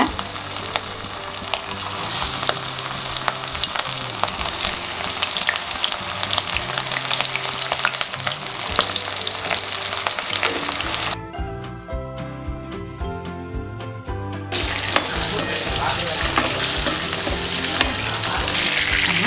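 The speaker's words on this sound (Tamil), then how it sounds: "எண்ணெய் நல்லா காஞ்சோடனே எறா பொரிச்சு எடுத்துக்கலாம்" Prawns frying in hot oil, a loud, continuous crackling sizzle close by that holds for the whole stretch, with a brief change in texture partway through and no voices.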